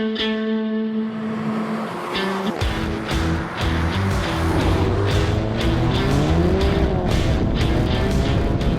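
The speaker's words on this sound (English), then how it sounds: "This is my friend's Golf GTI." Volkswagen Golf GTI making about 300 wheel horsepower, driven hard: a loud, close engine rising through gears with harmonic sweeps, accompanied by tire squeal and road noise, no talking.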